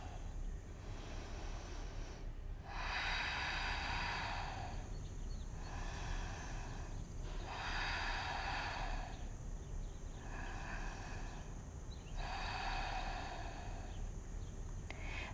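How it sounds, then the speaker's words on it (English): Deep breathing in a yoga flexibility class during a psoas and quad stretch: slow, regular breathy rushes repeat about every two seconds over a steady low hum, close and soft, with no talk. "Everybody close your eyes and take 3 deep breaths."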